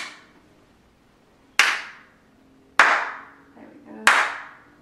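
Three sharp hand claps, evenly spaced and alone, ring out in a room, each one trailing off in a short echo off the walls.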